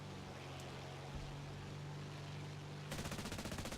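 Bomber gunners in War Thunder fire defensive machine guns: a faint, low drone is followed near the end by a rapid, steady rattle of bursts.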